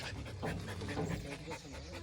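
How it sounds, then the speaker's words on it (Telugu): A dog pants quietly with quick, rhythmic breaths, close by and alone with no talk. "పాపం ఆయాస పడుతుంది"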